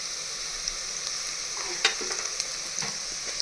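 Turmeric and black masala roasting in a mud pot for Maharashtrian chicken sukka, a faint steady sizzle with soft sporadic stirring clicks and scrapes, no talk.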